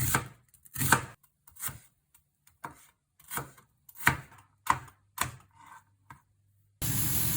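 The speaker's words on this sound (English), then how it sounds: "At this time, we cut the onion." An onion being chopped with a knife on a board, about ten separate crisp cuts at an uneven pace, close and clear, ending in a burst of broadband noise.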